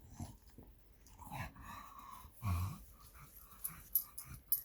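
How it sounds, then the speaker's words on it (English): A dog growls low and rough at close range, with wheezy breaths and brief snorts between rumbles, no talking. "You heard her growling."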